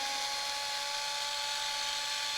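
A small electric screwdriver backs out 2.5 mm screws from an RC truck servo mount, a steady close high-pitched motor whine running without pause.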